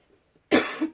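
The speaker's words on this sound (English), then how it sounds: "I always cough on videos." A single sharp cough from a woman close to the microphone, one abrupt burst after near silence with a short tail at the end.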